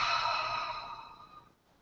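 A long, steady exhaled breath taken during a breathing meditation, soft and airy, fading out over about a second and a half and leaving quiet behind.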